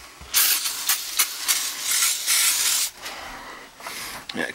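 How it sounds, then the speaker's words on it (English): Several hissing sprays of non-rinse foam coil cleaner from an aerosol can onto an air conditioner evaporator coil, in bursts of varying length with brief pauses, close and fairly loud. "Non-rinsing coil cleaner. Spray it in there"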